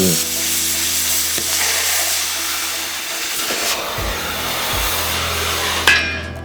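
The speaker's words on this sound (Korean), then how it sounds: "보가될 빔을 시공대 길이에 맞춰 재단 작업을 진행해줍니다" Harsh, continuous grinding and cutting noise as a steel beam is cut to length in a workshop, with low humming tones and a sharp clank near the end.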